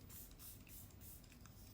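Hourglass makeup setting spray mists out in a soft, close, continuous hiss of a couple of spritzes, faint and alone.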